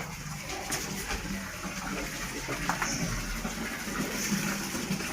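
Water runs steadily at home as a container or bucket fills, a continuous close gush with faint knocks and splashes and no voices.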